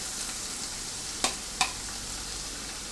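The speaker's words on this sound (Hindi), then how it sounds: "अभी इसके अंदर मैं डालूँगा चॉप किया हुआ ओनियन, गार्लिक।" Chopped onion and garlic hit hot oil with roasted cumin seeds, giving a steady soft sizzle broken by two sharp spatters close by.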